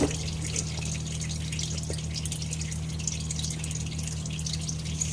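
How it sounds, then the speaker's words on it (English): Engine oil drains steadily from a Kubota Grand L 3560 tractor during a 400-hour service, a continuous close trickle and patter over a low engine-like hum. "So we'll just continue to let these drain here."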